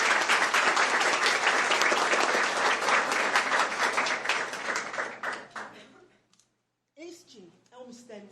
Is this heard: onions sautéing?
no